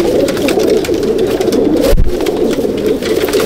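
Pigeons coo continuously inside a loft, a dense, close chorus of low burbling calls with a brief rustle or thump near the middle.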